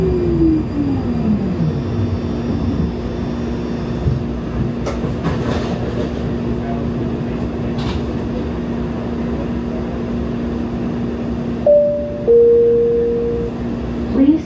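Inside a Siemens S70 light rail car on the Charlotte Lynx Blue Line, a steady low motor hum and rumble carry on with a few clunks and a falling then rising electric whine as the train starts moving.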